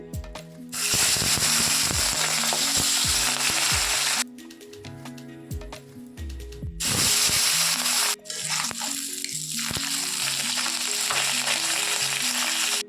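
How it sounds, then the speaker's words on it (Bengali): Small tengra fish rubbed with turmeric and salt fry in oil in loud, spattering bursts of sizzle, separated by quieter stretches with utensil clatter, close up with no one speaking. "এবার মাছগুলোকে আমি ভেজে নেব"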